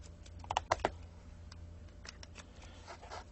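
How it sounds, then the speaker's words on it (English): A small zipper is pulled open on the accessory case of a 1000Wh portable power station, giving a few quick close ripping bursts near the start followed by faint scattered handling clicks. "It has a little zipper here that we can undo"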